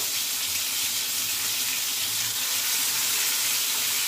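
Marinated surmai fish, coated in green masala, frying in hot oil in a pan, giving a steady, even sizzle that holds close and loud throughout with no voices.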